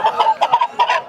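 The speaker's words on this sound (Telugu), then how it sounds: "సంవత్సరం కోడి" A one-year-old rooster at the Nallapadu poultry market gives a quick run of close, loud clucks in uneven bursts, with no talking over it.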